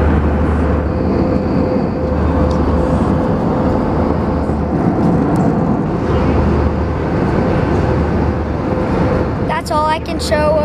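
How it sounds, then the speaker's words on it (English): Airplane in flight, a steady loud cabin drone with a low rumble filling the whole stretch, and a brief burst of higher tonal sounds near the end. "That's all I can show of the airplane, so y'all will see me in the air."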